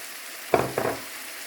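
Ground meat frying in a pan as parsley and tomato are added, giving two short bursts of sizzling close up, each lasting a fraction of a second, set against a quiet background.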